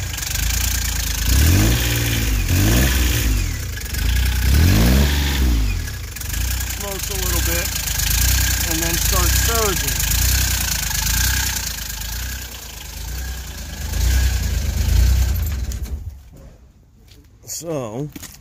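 A diesel engine with mechanical injection, slightly warm, runs with a steady idle rumble while someone talks over it for much of the time; the engine dips near the end.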